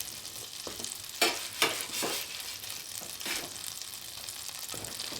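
English muffins frying in butter in a pan, a steady close sizzle with a few louder crackling bursts as the dough settles in, no voices.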